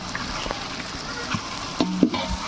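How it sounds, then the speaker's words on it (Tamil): Onions and tomatoes sauté in a pan for biryani, giving a steady low sizzle with occasional stirring scrapes and a few brief clinks. It is close and moderately loud, with no clear talking. "வெங்காயம் வதங்கி பொன்னிறமா ஆயிடுச்சுங்க அதுக்கு அடுத்து தக்காளி போட போகிறோம்"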